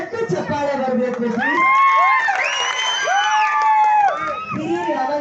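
A large crowd at an election campaign rally with film actors cheers and whoops loudly, with shrill rising whistles and shouts over a steady roar of applause and babble.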